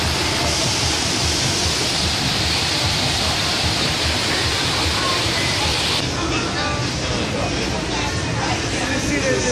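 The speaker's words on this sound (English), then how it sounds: "Ooh, splashing water." Splashing water from a water feature at a Rainforest Cafe makes a steady broadband rush with a busy restaurant murmur underneath, loud and continuous throughout.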